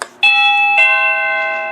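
A SadoTech CXR wireless waterproof doorbell chime rings indoors, sounding two loud, clear ding-dong tones that hold and ring out slowly, with no other sound around them.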